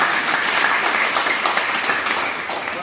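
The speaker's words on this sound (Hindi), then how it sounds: "जोरदार तालियों से स्वागत करता हूं" Audience applause welcoming a university vice-chancellor at the closing of a Marathi language workshop, a sustained dense crowd clapping that holds steady and fades slightly toward the end.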